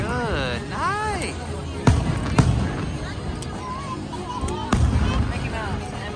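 A fireworks show at Magic Kingdom seen from beside the Tron ride, with several sharp booming bursts ringing out over a continuous crowd murmur while people nearby chat.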